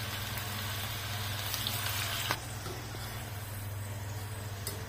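Okra (bhendi) frying in a pan for masala bhendi: a steady, soft oil sizzle runs throughout, with one light clink of a utensil partway.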